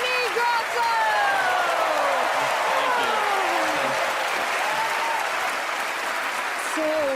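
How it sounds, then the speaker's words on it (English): TV studio audience at a magic competition show applauds loudly and continuously, with an announcer's voice and music tones running over the clapping. "Give Mark a nice round of applause for helping me"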